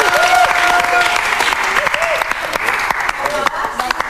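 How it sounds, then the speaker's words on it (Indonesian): Loud applause from a game show studio audience fills the room, steady clapping with some voices and cheers mixed in, gradually thinning toward the end. "Kita panggilkan langsung tepuk tangan untuk Yudi"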